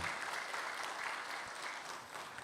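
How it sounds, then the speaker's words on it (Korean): A church congregation claps together after a choir's hymn, a dense steady burst of applause filling the sanctuary, no voices over it. "하나님께서 더욱더 큰 영광 받으시도록 큰 박수 한번 해주시기 바랍니다"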